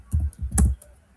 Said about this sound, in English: In order to exit from the chart, simply type slash by.